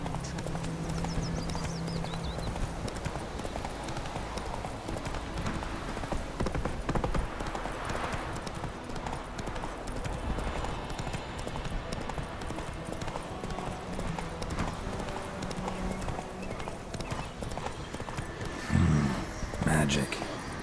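Roach the horse galloping in The Witcher 3, steady rhythmic clip-clop hoofbeats with game music and ambience, and a voice speaking over them at times.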